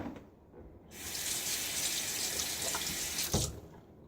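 A water tap runs steadily into a sink while a razor is rinsed, a soft even rush that starts after a quiet moment and stops near the end, with a brief knock just before it cuts off.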